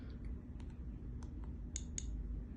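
A handful of small, sharp plastic clicks from the buttons of a Radiacode-103G dosimeter, scattered and uneven, close by against a low steady hum.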